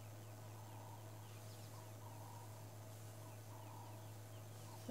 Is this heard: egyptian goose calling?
yes